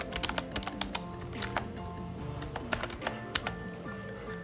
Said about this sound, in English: So first I will enter my Alice Blue client ID here, and then the password